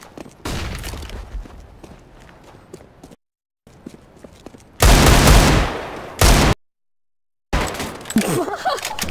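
Counter-Strike: Global Offensive gunfire on the night-time Dust2 map, with loud bursts of rapid shots separated by silent gaps, plus quieter footsteps and game noise between the volleys.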